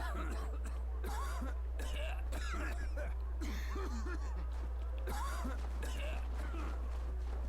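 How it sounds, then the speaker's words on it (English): A man in a Star Trek Online game scene coughs in a series of rough, throaty bursts over a steady low hum. "That's kind of a wicked cough you got going on there"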